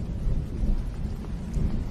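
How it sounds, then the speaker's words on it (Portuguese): Thunderstorm with steady rain and a deep rolling thunder rumble, dense low roar lasting throughout, loud and close, with no talking. "começaram a escutar um barulho de chuva, raios e trovões"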